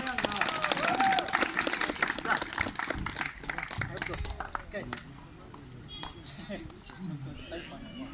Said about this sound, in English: Everyone, once more big round of applause.